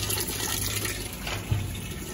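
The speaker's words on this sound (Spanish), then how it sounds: "El problema de esta lavadora, que dice el cliente que usa muy poquita agua." Whirlpool washing machine filling with water while showing a low-water-intake fault, a steady rushing hiss of inflowing water with a constant low hum, no talking.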